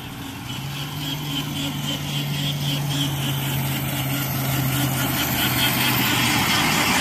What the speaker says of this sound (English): here comes another beautiful engine